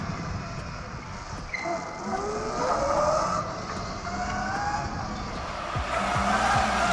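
An electric supermoto motorcycle braking hard on a karting circuit, tires squealing and skidding in drawn-out, fairly close scrubbing bursts over a steady whine, with no engine roar.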